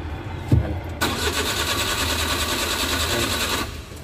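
Suzuki K6A engine cranking without catching, a click then a steady, rhythmic whirring churn of the starter lasting about two and a half seconds before stopping, loud and close.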